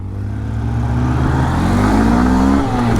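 A 2026 TVS Apache RTR 160 2V or Honda SP160 motorcycle accelerates through second and third gear. The engine is loud and close, its pitch climbing steadily as it revs.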